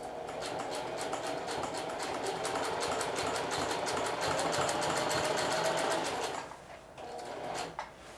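A sewing machine stitches a hem in a fast, steady mechanical chatter, close and loud for several seconds, then stops abruptly, leaving a quieter hum and a small clunk.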